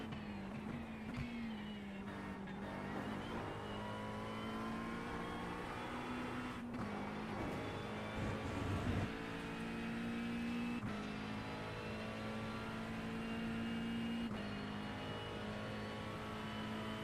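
A race car in the iRacing video game drives continuously, its engine note steady and then rising and falling through shifts and braking, fairly quiet with no talking.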